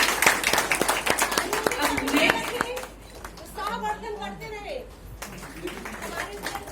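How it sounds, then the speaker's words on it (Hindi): Applause from an award ceremony audience, dense and loud at the start, then thinning as a voice talks over scattered clapping near the end. "जोरदार तालियां। जोरदार तालियां।"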